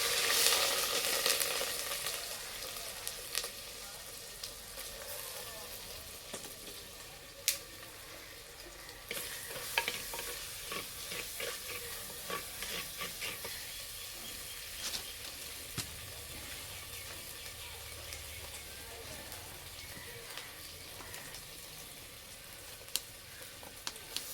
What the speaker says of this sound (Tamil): இப்போ வந்து இது சின்ன வெங்காயம் இஞ்சி பூண்டு இது எல்லாமே இப்போ எண்ணெயில் சேர்த்துக்கலாம்